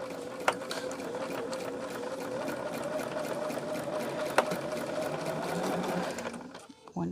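A sewing machine runs steadily to stitch a tote bag liner, with a continuous close mechanical whir for about six seconds before it stops.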